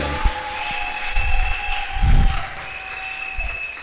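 A church congregation applauds in a large hall, a diffuse wash of clapping that swells around the middle and then settles, with a steady tonal hum in the background and no clear speech.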